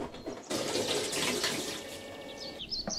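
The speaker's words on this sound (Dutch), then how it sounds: "Spoel het melkpak om met water en een beetje afwasmiddel." Tap water runs into a milk carton being rinsed with a little dish soap, a loud splashing gush that starts abruptly, sloshes steadily, then briefly cuts off near the end.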